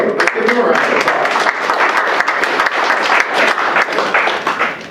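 A crowd at a Veterans Day gathering applauds a U.S. Army veteran, a dense, steady wash of many hands clapping loudly for about five seconds before tapering at the end.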